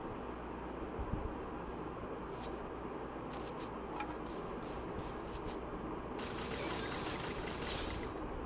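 Gunfire in the Free Fire mobile game sounds as a quiet burst of rapid shots, followed by another clustered volley, over a steady background hiss.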